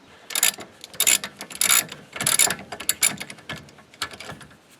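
A ratchet wrench clicks in quick bursts as a 17 mm nut is loosened from the idler arm on a W126 Mercedes-Benz S-Class, close and clear with short pauses between strokes.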